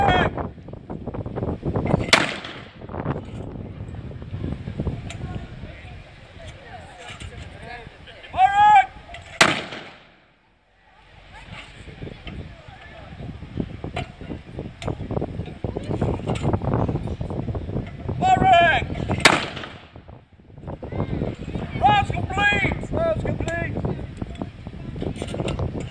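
Artillery pieces at a WW2 reenactment battle display at Blaenavon ironworks fire high-explosive rounds, three loud booming blasts spaced roughly ten seconds apart, with outdoor wind noise and voices between shots.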